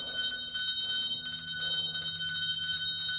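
Many bells throughout an old house ring out loudly together, a dense, sustained metallic jangle of overlapping tones that holds steady without pause.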